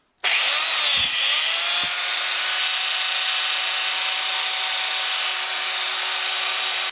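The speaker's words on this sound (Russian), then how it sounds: "Осталось проверить работу углошлифовальной машины" Angle grinder fitted with a tile-cutting disc after bearing replacement, spinning up abruptly and running steadily at full speed with a loud, even high-pitched whine and no talking.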